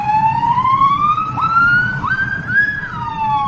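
An ambulance siren wails loudly and continuously, its pitch sweeping slowly upward in a steady rising tone with no voices over it.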